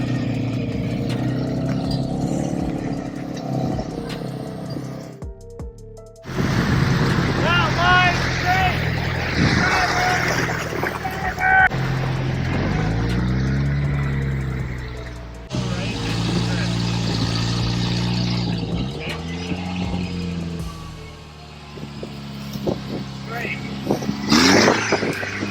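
A modified, shortened truck crawls over rocks at a rock-crawling test in the Canadian prairies, its engine droning and rising in uneven bursts and lulls throughout, with voices talking over it.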